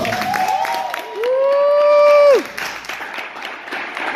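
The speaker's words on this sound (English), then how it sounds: "Clap your hands if you think it was fabulous." An audience at an awards banquet applauds in a swelling burst of clapping and cheering that fills the room for a moment, overlapping a whooping voice, then fades back into chatter.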